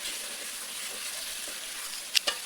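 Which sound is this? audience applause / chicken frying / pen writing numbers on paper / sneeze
chicken frying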